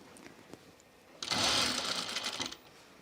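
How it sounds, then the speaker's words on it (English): Close, steady whir of a sewing machine finishing a dress seam, running for just over a second after a quiet pause, with faint background noise and no talking. "All right, so now we have that seam finished."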